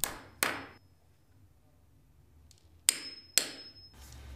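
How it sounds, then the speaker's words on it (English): A hammer drives nails into a timber floor board during wood floor installation, with four sharp, ringing hammer strikes: two close together at the start, then a quiet pause, then two more in quick succession, each decaying quickly. "nail and punch the first board"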